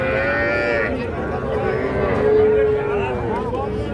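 Cattle at a livestock market moo in long, drawn-out calls, one after another, close by, with people talking in the background.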